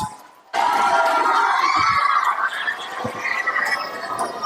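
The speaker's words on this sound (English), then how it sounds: "Let's give a huge round of applause to our amazing performers" Loud, dense cheering and shouting from an audience applauding student performers at a school event, starting abruptly and holding steady with excited yells throughout.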